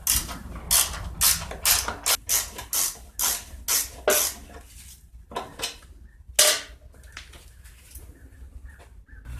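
Ratchet wrench loosening 3/4 bolts on the back of a 2002 Sears Craftsman mower cover, a close, loud run of rapid metallic clicking bursts with brief pauses, tapering to quieter ticks toward the end; no talking.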